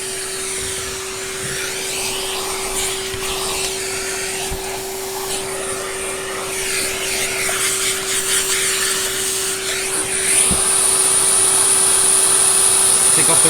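A Henry vacuum cleaner drones loudly and steadily nearby with a constant hum, grows somewhat louder toward the end and is joined by a high whine, with occasional knocks during a workshop refurb.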